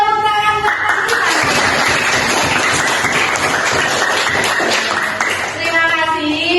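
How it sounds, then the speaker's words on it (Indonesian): Loud, close classroom applause from a group of fifth-grade pupils, rapid energetic clapping that swells and sustains for several seconds, with a teacher's voice and some chuckling at the start and end. "sekali lagi tepuk tangan untuk kelas"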